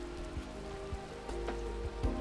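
Rain falls in the Minecraft modpack Enigmatica 2, a steady soft patter with scattered sharper drops and a few louder splashes, even and close with no one talking.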